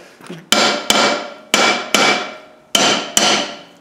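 Hammer taps on the brake shoes of an LT230 transfer box, settling and centring them: six sharp metallic strikes in three pairs, each ringing briefly before fading, loud and close with no talk.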